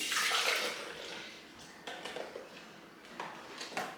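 Liquid smoothie base, pineapple and frozen strawberry and banana going into a blender for a protein smoothie, heard as a close, hissing pour that starts strong and then turns into a few short splashes and trickles.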